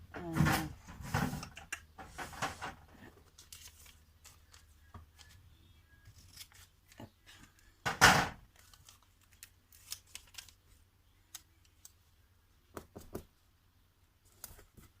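Scissors snipping through sticker sheets at a craft table: a few sharp crisp cuts early and one louder snip midway, spaced by quiet handling rustles and faint crinkles, no talking.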